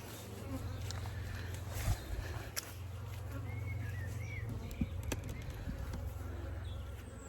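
Welsh Black honey bees flying around a hive in an apiary, a steady close buzzing drone with individual bees passing near, a few soft knocks and faint birdsong in the background.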